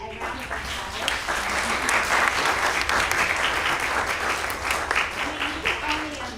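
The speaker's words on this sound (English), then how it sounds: "Let's give our professionals a round of applause." At a university MAB Day event, an audience applauds the professionals with loud, sustained clapping that swells and holds for several seconds, with faint voices underneath.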